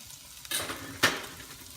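Tomatoes cooking in a pan for perch sarciado give off a soft, steady sizzle that swells suddenly about halfway through, with a brief brighter hiss and a faint clink near the end. No one speaks.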